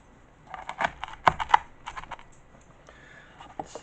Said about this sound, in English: I'm going to cut it into some slices here.